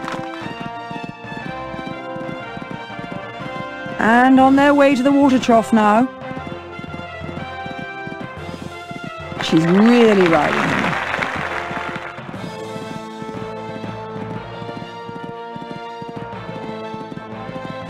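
A horse runs in the cross-country event of the Equestriad 2001 video game at the Kentucky Three-Day Event, with steady hoofbeats under a commentator's voice, two loud swelling bursts of crowd noise and a tonal music bed.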